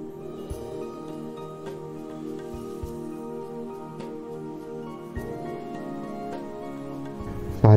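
Steady heavy rain in Dwarka, a dense continuous wash of falling water with no voices, ending in a brief louder burst.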